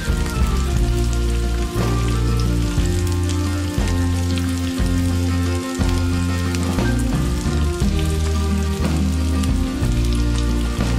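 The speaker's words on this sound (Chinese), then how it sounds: "用中小火慢炸" Watermelon rind deep-fries slowly in oil over medium-low heat. A dense, steady sizzle crackles continuously like heavy rain, close and fairly loud, with faint low bumps underneath.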